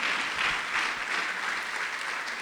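Church congregation in a Spanish-language revival service claps loudly and steadily, a dense, even wash of applause with no speech over it.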